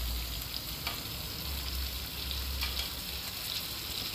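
Mushrooms lightly sautéing with other ingredients in a pan make a quiet, steady sizzle with a few faint ticks and crackles throughout.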